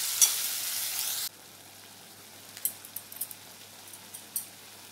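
Ground onion, garlic and masala paste hitting a hot pan, with a loud sizzle at first that drops to a soft steady fry, broken by a few light clinks of a spoon stirring.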